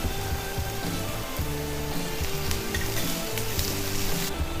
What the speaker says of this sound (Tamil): இப்போ கருவேப்பிலை போடலாம்.